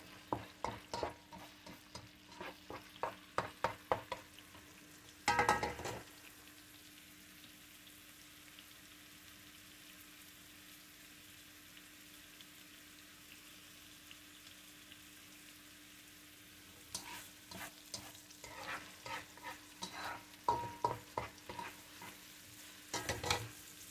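Onions fry in a pan for Surinamese loempia filling, a soft steady sizzle broken by bursts of scraping and clattering as they are stirred at the start, briefly in the middle and again near the end.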